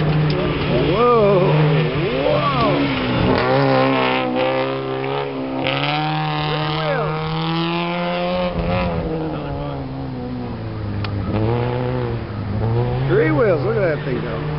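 A three-wheeled race vehicle's engine revs and accelerates hard, its pitch rising and falling in long sweeps as it pulls away at a run on a track. An excited voice talks over the engine noise.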